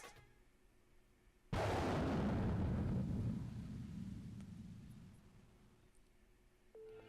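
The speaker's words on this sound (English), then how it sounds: "An explosion shakes the ground." A pub blown apart in a video game explosion: one sudden, loud blast followed by a long rumbling roar that slowly fades over several seconds, with no voices.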